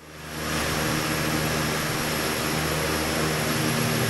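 An airplane engine in Microsoft Flight Simulator drones loud and steady, a constant propeller-like hum with a high whine that holds unchanged throughout, with no voices.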